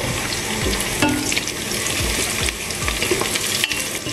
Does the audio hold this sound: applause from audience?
no